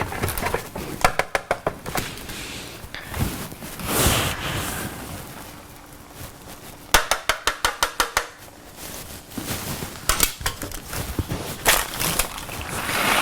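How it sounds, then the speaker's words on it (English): Parmesan cheese grated on the coarse side of a grater, rhythmic scraping strokes in quick bursts, close and fairly loud, with pauses between runs. "And you just grate it."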